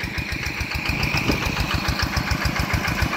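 Kubota engine driving a water pump beside a rice field, a steady rapid chugging drone with even knocking pulses, close and continuous.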